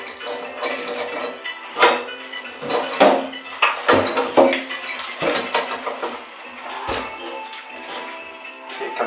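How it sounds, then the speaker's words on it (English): A wrench works loose an old Price Pfister Avanti shower cartridge, giving a series of close metallic clanks, scrapes and clinks at irregular intervals over about nine seconds, with no talk. "And then you take this wrench, find a flat spot."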